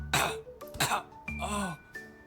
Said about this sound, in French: Il s'étouffe en reniflant son linge sale.